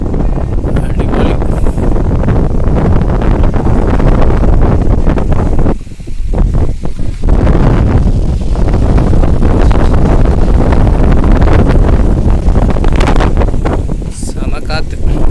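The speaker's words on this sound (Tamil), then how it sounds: "செம காத்து." Strong, gusty wind buffets the microphone during extreme rain in Mettupalayam, Coimbatore, Tamil Nadu, a loud, continuous roar with a brief dip midway before surging again.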